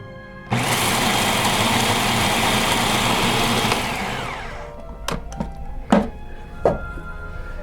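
A blender whirs loudly and steadily for about four seconds, blending no-bake blueberry cheesecake ingredients with chia seeds, then winds down, followed by a few sharp knocks and clunks.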